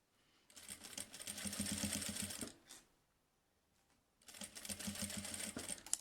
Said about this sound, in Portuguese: Vou costurar mais um pedaço aqui.